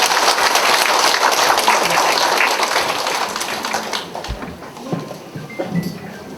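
Audience applause welcoming a priest to a talk at a Catholic spirituality center in Myeongdong, Seoul: dense clapping from a crowd that fades after about four seconds into a few scattered claps and room noise.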